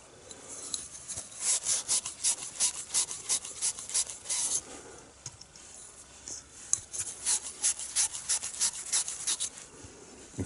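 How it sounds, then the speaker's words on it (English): A Scotch-Brite pad scrubs a copper pipe to clean it for a push fitting, giving rapid rhythmic rasping strokes in bursts, close and fairly faint, with a short pause midway. "And once that's all clear, use a Scotch-Brite pad."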